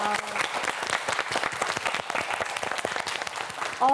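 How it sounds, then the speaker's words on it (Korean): Studio audience on a televised Korean student quiz show applauding a contestant, a dense, steady round of clapping from many hands lasting a few seconds, fairly close and full. "큰 박수 보내주세요"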